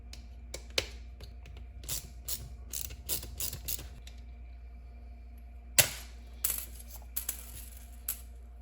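Screws being backed out of a Ford Ranger headlight assembly with a T10 Torx bit, heard as close, irregular small metallic clicks and ratcheting ticks in short bursts over quiet, with a low steady hum underneath and no talking.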